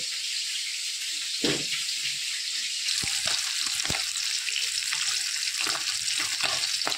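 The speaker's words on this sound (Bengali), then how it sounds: "সমস্ত মাছগুলো ভাজা হয়ে গেছে, এবার এক এক করে তুলে নেব।" Pieces of catla fish fry in hot oil in a home kitchen, a steady close sizzle with occasional sharp spatters and pops.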